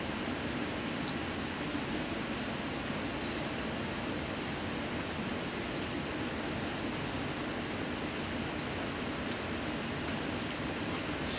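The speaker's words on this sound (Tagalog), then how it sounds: "Mag-play sa ulan." Steady broadband rain falls outdoors with no breaks, a constant hiss that stays even and moderately loud throughout, with no voices over it.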